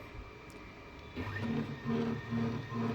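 A computer embroidery machine stitches a design on net cloth, starting up with a steady mechanical whir and a regular pulsing rhythm of needle strokes, close and continuous.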